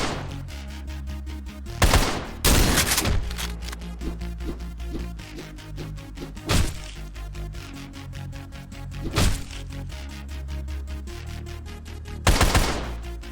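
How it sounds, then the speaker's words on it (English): Rapid video game gunfire in bursts, with repeated automatic shots rattling steadily and several louder, heavier blasts standing out at intervals, close and loud with no talk. "You're shooting me and you're not even looking at me."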